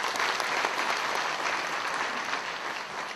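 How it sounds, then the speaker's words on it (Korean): A hall full of people claps steadily for an alumnus after his congratulatory address at a Korean school ceremony. The applause is moderately loud, continuous and broad, then tapers slightly toward the end. "정성한 선배님께 다시 한번 박수 부탁드립니다"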